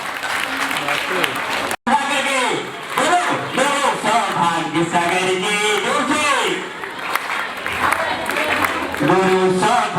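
A crowd at a religious gathering in Krishna Nagar, Delhi applauds in welcome, with steady dense clapping running beneath someone speaking over a loudspeaker throughout.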